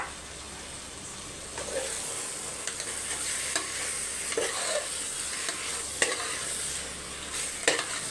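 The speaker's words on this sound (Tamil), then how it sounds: "சிம்மிலேயே வச்சு நல்லா ரோஸ்ட் பண்ணி எடுத்துக்கோங்க" Cashews or roasted gram roasting on low flame for a mutton biryani, a soft steady sizzle broken by occasional scraping stirs and light clicks of a spoon against the pan, with no voices.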